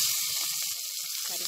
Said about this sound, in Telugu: ఆనియన్స్ని లైట్గా ఫ్రై చేసుకోవాలి